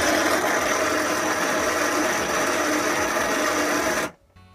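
The small electric motor of a 6-volt battery ride-on toy car spins fast with a steady, close whirring buzz, then cuts off abruptly near the end.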